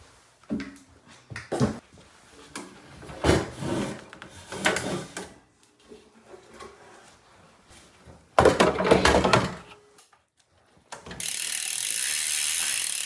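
A ratchet loosening a bolt on a bike wheel in a bathroom gives bursts of sharp clicking strokes separated by pauses. A louder, denser run of clicks comes near the end, followed by a steady hiss.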